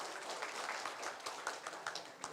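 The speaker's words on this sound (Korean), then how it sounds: "큰 박수로 마치겠습니다" Faint, distant applause from the audience closing a carbon-neutrality strategy debate forum in Yeosu, a dense, steady patter of many hands with no voices over it.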